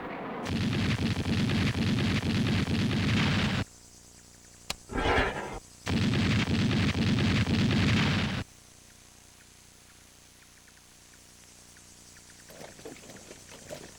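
Bursts of heavy 57mm anti-aircraft gun fire from the Vietnam War, a dense sustained roar of rapid shots, a short break with a brief burst, then another long loud barrage before fading to quiet.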